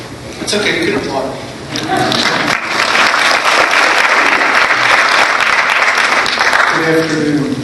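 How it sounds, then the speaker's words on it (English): Audience applause at a talk on human trafficking, a dense wash of clapping that builds within the first second and holds loud and steady to the end, with some voices and crowd noise mixed in at the start. "It's okay, you can applaud."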